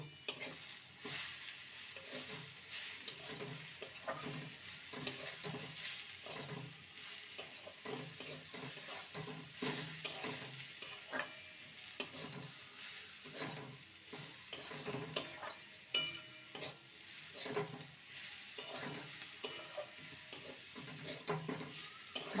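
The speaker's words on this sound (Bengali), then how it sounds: "এবার এটাকে ভালো মতো কষিয়ে নেব" Shredded cabbage frying with salt, turmeric and coriander powder is stirred repeatedly in a pan, producing a soft continuous sizzle broken by frequent rhythmic scrapes and clicks of a spatula, fairly quiet and close, with no talking.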